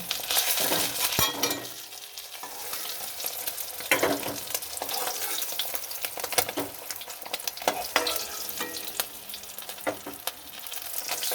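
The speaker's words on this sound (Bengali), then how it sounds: "এবার আমার মাছগুলো ভাজা হয়ে গেছে, এবার আমি মাছগুলোকে তুলে নেব।" Fish frying in hot oil in a pan, a steady close-up sizzle with occasional spits and crackles running throughout, no voices.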